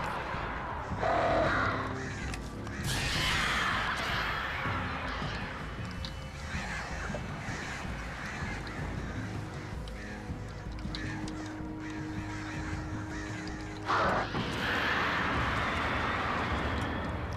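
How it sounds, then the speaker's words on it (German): Crows caw repeatedly through dense in-game ambience in the Alan Wake video game, with the calls rising out of a busy, continuous background wash at a moderate level. "Vögel"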